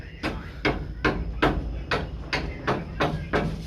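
Hammer blows drive nails into wood during house building, about eight sharp strikes at a steady, roughly half-second rhythm, close and clear with no talk.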